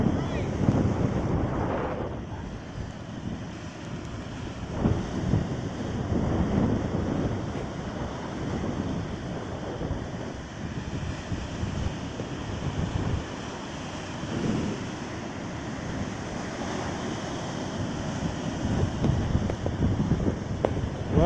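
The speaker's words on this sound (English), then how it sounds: "the waves are really on over here" Strong gusting wind roars against the microphone while waves crash steadily on the Lake Ontario shore at Hamlin Beach State Park, a loud continuous rumble with surging breakers throughout.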